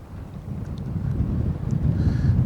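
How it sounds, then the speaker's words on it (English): A strong breeze buffets an outdoor microphone at a model airplane flying session, producing a loud, steady low rumble that builds slightly over the clip, with faint thin tones in the background. "We're getting a big breeze."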